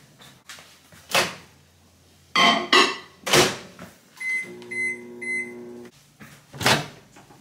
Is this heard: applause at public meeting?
no